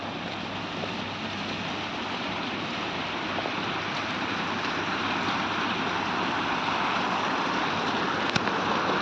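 Steady broadband water wash at a lit park lakeside, a continuous soft rushing like lapping waves or flowing water, even and unbroken throughout with no voices.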